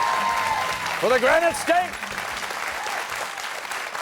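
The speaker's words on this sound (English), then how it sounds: "Round of applause" Audience applause greeting quiz team alternates and their coach at a high school quiz show between Massachusetts and New Hampshire, sustained clapping under a voice speaking briefly over it.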